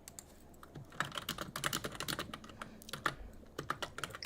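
Rapid, uneven clatter of typing on a computer keyboard plays close and alone, with bursts of keystrokes and brief pauses.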